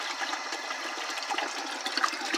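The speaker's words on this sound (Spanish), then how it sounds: "Ahorita lo que voy a hacer, voy a conectar la bomba." Well water gushes steadily from a pump outlet, a close, even rushing and splashing that holds at one level for the whole moment.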